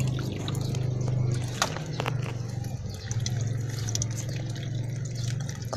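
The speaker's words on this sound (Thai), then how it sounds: "รดน้ำครั้งเดียวปล่อยเขาเลยนะคะ" Water is poured onto a freshly dug banana offshoot planted in a pot, making a soft trickle with scattered drips over a steady low hum, fairly quiet throughout.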